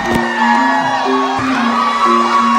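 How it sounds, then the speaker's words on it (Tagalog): A pageant audience of mothers in Barcelona shouts, whoops and cheers loudly for the contestants on talent night, a dense, continuous crowd roar close by with high voices rising over it. "Tuwing lalabas ang pambato nila, ang lakas ng sigawan."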